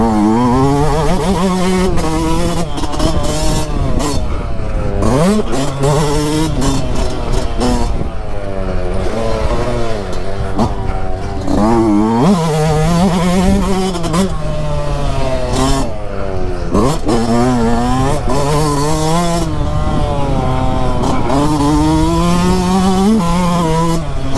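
Yamaha YZ 125 and YZ 250 2022 two-stroke motocross bikes ride a track in Italy, their engines loud and close, rising and falling through repeated revs and gear changes without pause.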